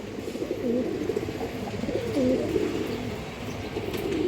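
Pigeons coo in soft, repeated throaty phrases throughout, close and steady against low background noise at a Bengali pigeon dealer's, among colored and paired breeds such as Bagha, Safchila, Silver, Musaldom and Kaldom.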